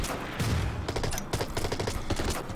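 Gunfire from a Panzer tank and an M16 in the wartime strategy game Order of Battle, a dense, rapid fusillade of overlapping shots and bursts rolling loudly for a couple of seconds.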